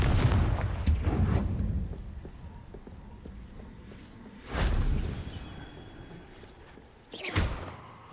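Confringo fire-curse blasts in Hogwarts Legacy land as three separate booms, a rumbling opener followed by two sharper explosions after a quieter stretch, loud against low background game noise.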